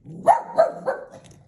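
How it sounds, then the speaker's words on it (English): A dog gives three quick barks in a steady rhythm, close and fairly loud, then falls quiet. "I had to pause for a little bit while my dog was barking"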